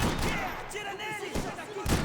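Gunfire from a firefight in Max Payne 3, a dense burst of shots layered over a busy, loud game soundscape with voices nearby.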